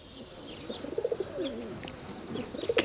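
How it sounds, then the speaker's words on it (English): Soft, rounded pigeon coos repeat in a gentle rhythm, close by, at Punakha Dzong in Bhutan, over a quiet outdoor hush with a few faint chirps. "You can hear the cooing of the pigeons"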